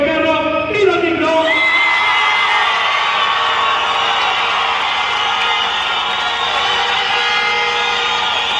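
A crowd whoops and cheers loudly at a car audio event, with a shrill sustained roar of shouting voices rising after a short opening and holding steady throughout.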